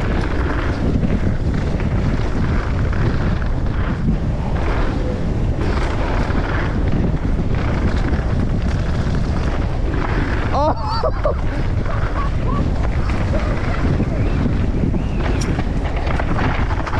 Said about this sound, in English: It is proper windy.